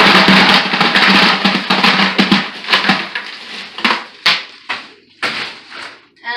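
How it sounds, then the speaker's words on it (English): Ice is dumped into a bucket at a farm to chill a Thanksgiving turkey brine. A dense, loud clatter of cubes pours in at first, then thins into scattered separate clunks and rattles toward the end, with no voices. "I'm going to dump in some ice."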